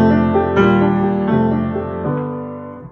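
A soft piano passage of chords in a beginner lesson piece that swells in volume and then fades away; close and solo, with no voices.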